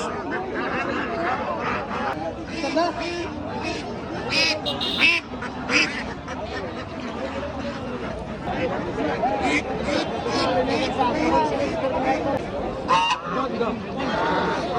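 Ducks and geese honk and quack continuously at a busy Saturday livestock market in Narsingdi, a dense close chorus mixed with crowd chatter and voices of people talking throughout.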